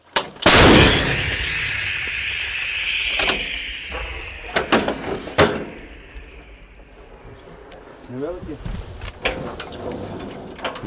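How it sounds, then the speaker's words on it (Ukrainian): A heavy artillery gun blast booms close by at a firing position on the Zaporizhzhia front, followed by a long rumbling echo, with several sharper bangs and some voices in the background afterward. "Гармата! Постріл!"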